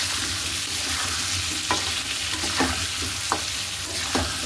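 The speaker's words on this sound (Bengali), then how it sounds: "আর এদিকে আলুর মধ্যে নুন আর হলুদ দিয়ে ভাজা করছি" Potatoes fry in fish oil with salt and turmeric, giving a loud, continuous sizzle broken by several short scraping stirs, with no talking.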